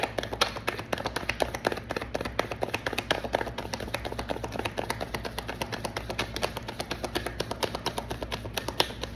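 A deck of tarot cards is shuffled by hand in a quiet room, giving a continuous run of close, crisp, rapid card snaps and flutters that keeps a steady rhythm throughout with no voice.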